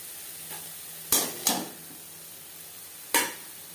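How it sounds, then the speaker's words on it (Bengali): A bay leaf and five-spice tempering hiss in hot oil in a kadai just used for frying prawns, a low steady sizzle punctuated by three sharp utensil clanks against the pan. "মাছ ভেজে নেওয়া কড়াইতে আবারও তেল দিয়েছি। ফোড়নে দিয়ে দিলাম একটা তেজপাতা, 5 ফোড়ন।"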